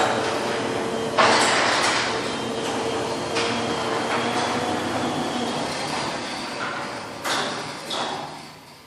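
A Clopay garage door travels on a LiftMaster 8550 opener, giving a continuous, fairly loud mechanical rumble with a few sharper clunks and rattles along the way, with no voices.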